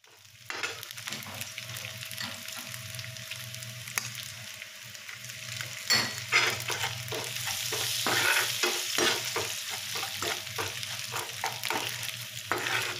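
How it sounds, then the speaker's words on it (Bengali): Dried fish (shutki) frying in salted oil, a steady sizzle with spatula scrapes and stirring strokes in the pan, close and without talking, the frying growing louder toward the end. "শুটকিটা আমি সুন্দর করে লাল লাল করে ভেজে নিব।"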